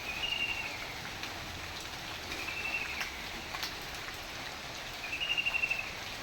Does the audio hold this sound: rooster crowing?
no